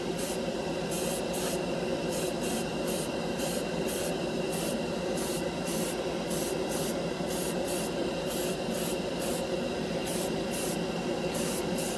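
An airbrush sprays Mr. Color lacquer paint onto a scale model in short, rhythmic bursts of hiss, each few-second pulse starting and stopping over a constant close background hum.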